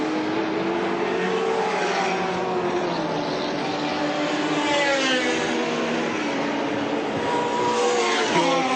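Touring race cars at full throttle on the Lakeside Raceway circuit in 1984, several engine notes rising and falling continuously as the cars brake and power through corners, loud and steady without any talk.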